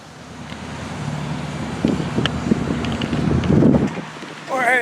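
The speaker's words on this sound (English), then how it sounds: "The wind is blowing out of the south and it's blowing pretty dead-gum hard" Strong south wind buffets the microphone outdoors near a road on a bicycle ride, a steady loud roar with gusty surges throughout.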